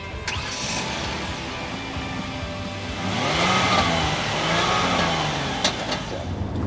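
A 2014 Kia Cadenza's 3.3 liter direct-injection V6 runs from inside the moving car, a steady mid-pitched engine hum that swells briefly as it accelerates, with road noise underneath.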